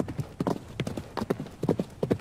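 Horse hooves clip-clop steadily across ground in the game Frontiers, a brisk, even rhythm of close, sharp hoofbeats over a constant background hum.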